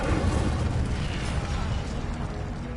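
Incendio fire spell cast in Hogwarts Legacy, a loud, steady roaring burst of flame that fills the whole moment with a dense, rumbling whoosh.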